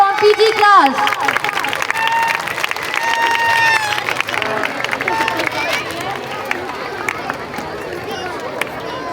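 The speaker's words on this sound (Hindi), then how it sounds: "Please clap for Aisha from PG class." Audience at a school Independence Day event applauding a student, a broad, steady wash of clapping and crowd murmur that continues throughout, with a voice speaking over it early on.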